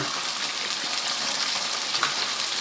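Eggplant sizzles and crackles in a hot pan with garlic, onion and chili, a steady close frying hiss with faint stirring throughout.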